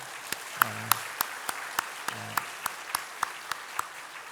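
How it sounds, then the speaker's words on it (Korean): A church congregation at an Easter service applauds the church school teachers, sparse, evenly spaced claps ringing out in a slow rhythm, with a brief tonal voice-like sound twice underneath. "선생님들 한번 일어나시고 우리 박수 한번 쳐주시기 바랍니다"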